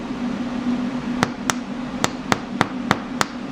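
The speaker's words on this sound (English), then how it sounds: "let's get my little hammer here" A small hammer taps pins into holes: seven sharp, close metallic knocks in an uneven rhythm, each clearly separate, over a steady background hum.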